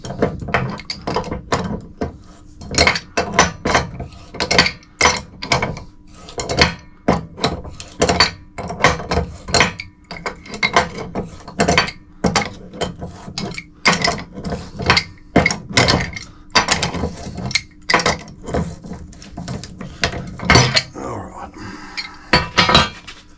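Repeated metallic clanks and ratcheting clicks from a pitman arm puller removing the steering arm on a 1970 Dodge Phoenix, irregular bursts close by, with brief pauses between.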